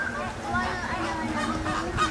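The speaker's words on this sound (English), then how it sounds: "That's a Hawaiian goose." Hawaiian goose at a zoo honking, a few soft nasal calls repeated over about two seconds, faint and mixed with background crowd chatter.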